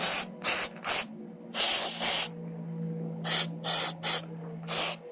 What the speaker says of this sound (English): I'm spraying all the door hinges, door stops, and everything with this heavy duty silicone spray